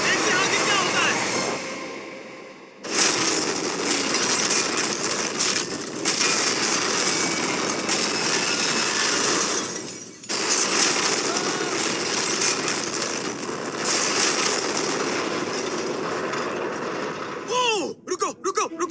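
Train racing along rails toward a derailment in a played video, a loud continuous rumbling roar with two brief dropouts and a screeching burst near the end.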